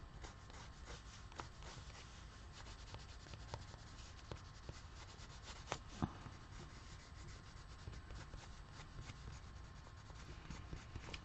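Coloring a wood grain pattern onto paper produces soft, steady scratchy rubbing strokes, faint and close, with occasional slightly sharper ticks of the drawing tool.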